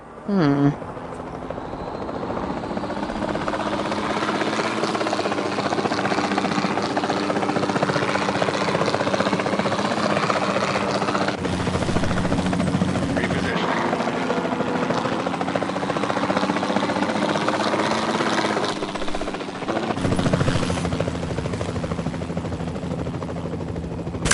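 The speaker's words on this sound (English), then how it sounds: "Then the sensible thing is to take a capture team helicopter." Capture team helicopter in the video game Jurassic World Evolution 2, a loud steady rotor and engine drone that holds throughout with slight shifts in pitch.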